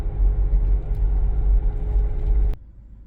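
A Jeep grinds along a rough, narrowing canyon road in Maple Canyon, Utah, its steady low engine rumble and road noise running close and continuous before cutting off abruptly near the end.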